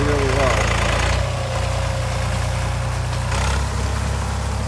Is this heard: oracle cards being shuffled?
no